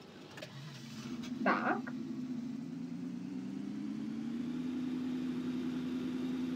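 A car engine in Farming Simulator idles with a steady low hum that holds throughout, rising slightly in pitch, with a brief click early on and a single short spoken word.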